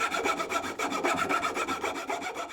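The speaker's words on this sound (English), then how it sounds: "I'm going to tune it up a little bit with a coarse file" A coarse file rasps across a wooden band saw blade guide on a homemade band saw, quick regular back-and-forth strokes, close and steady with no talking.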